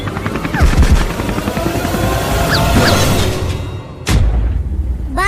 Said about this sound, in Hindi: अबे जल्दी कूदो, ये हेलीकॉप्टर गिरने वाला है।